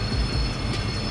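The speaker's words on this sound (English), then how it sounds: "this train is taking so long" A slow freight train rumbles past up close, with continuous rail noise and high thin wheel squeals ringing over the heavy low roar.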